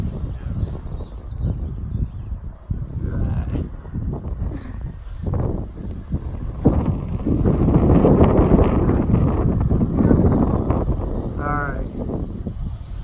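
Wind gusts outdoors during a lawn care job, a steady broadband rush that swells louder midway and buffets close to the microphone, with faint voices underneath.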